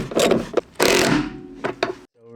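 Carpet being pulled up from a rusty car floor gives loud, broadband ripping and rasping bursts, with a long tearing stretch in the middle and a few sharp scrapes near the end.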